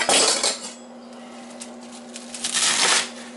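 Crisp knife chops and clatter on a board as stems are cut off broccoli rabe in a home kitchen, a few close sharp cuts over a steady background hum.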